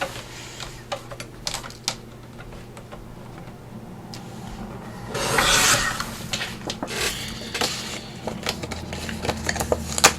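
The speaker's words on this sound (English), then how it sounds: "I'm just gonna trim another sliver off" A thin sliver is trimmed off a paper gatefold tag, giving a brief rasping cut midway, surrounded by light taps, clicks and paper handling noises close by.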